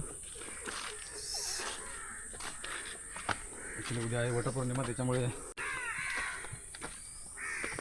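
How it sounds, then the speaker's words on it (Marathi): Crows caw near a hidden temple by the Fulpada dam in Virar, with other birds calling around them. The calls come in short bursts beneath a person speaking close by. "प्राण्यांचा आवाज ते पक्ष्यांचा आवाज तुम्ही ऐकू शकता"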